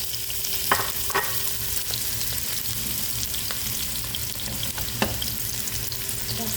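Onions fry in oil with a steady, close sizzle, with occasional stirring scrapes and pops throughout and no talking.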